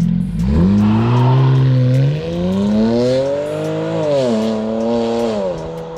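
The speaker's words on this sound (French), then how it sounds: "Un rupteur sur un diesel" A BMW 335d diesel engine with a downpipe and otherwise complete stock exhaust revs hard and holds against the rev limiter, a loud, close, steady drone rising and bouncing in pitch for several seconds.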